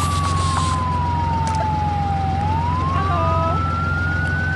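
A wailing electronic ambulance siren in the game Pepi Hospital sweeps slowly up and down in pitch over a constant low engine drone, fairly loud and with no voices.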